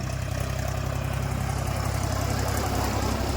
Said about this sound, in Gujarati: આ વખતે તો ત્રણ ટ્રેક્ટરની લાઈન છે